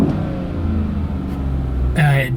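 Inside the cab of a 2014 Silverado pickup fitted with an AIRAID cold air intake, the engine hums as a low steady drone, swelling briefly toward the end, with talking over it.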